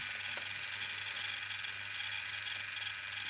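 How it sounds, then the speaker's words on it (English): A small servo motor in a mechatronics project shifting its angle, giving a steady mechanical whir with faint ticking gear sounds, close and continuous. "change the angle of the servo motor with my buttons here"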